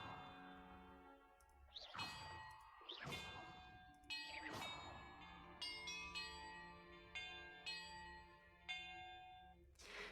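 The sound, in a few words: bells rung in a puzzle, from video game Hogwarts Legacy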